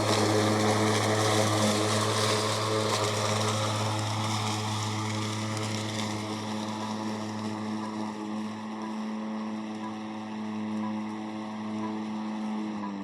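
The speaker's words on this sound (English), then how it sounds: "Now time to mow the backyard." Mowrator S1 4WD electric radio-controlled lawn mower cutting a backyard, giving a steady, fairly loud motor and blade whir that holds its pitch for several seconds, then drops slightly lower, with no talk.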